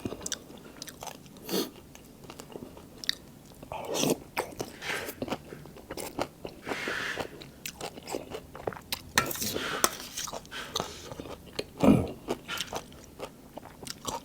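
Crispy pork with tam sua, a Thai papaya salad with noodles, bitten and chewed close up in repeated crunchy bursts, with scraping of cutlery and some talking between bites.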